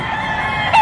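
A farm-raised gamefowl rooster crows briefly at the end of a short stretch of steady background noise, near and fairly loud.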